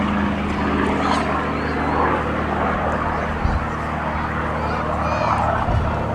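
A vintage Rolls-Royce-engined propeller warplane, a Spitfire or P-51 Mustang, drones steadily overhead at an air festival, a continuous loud engine roar under a commentator's voice.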